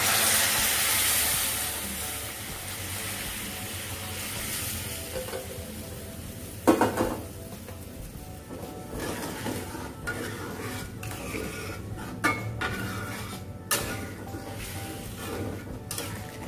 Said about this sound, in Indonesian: Sekarang aku mau masukin air. Airnya air panas ya,